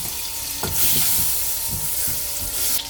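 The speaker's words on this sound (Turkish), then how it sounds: "Tenceremize iki kaşık tereyağı alıyoruz" Butter sizzling and crackling steadily in a hot pot as a roux for hünkar beğendi begins, with a few soft scrapes of stirring, no voices.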